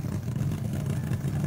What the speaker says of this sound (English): Listen to that Ram Charger's motor. Just crisp and clean.